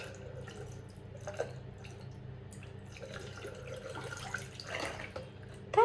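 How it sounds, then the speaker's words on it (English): Hot water trickles and drips into a bathroom sink drain after baking soda has gone down it. The pour is faint and uneven, with small splashes and a louder gurgle at the end. "I just pour hot water"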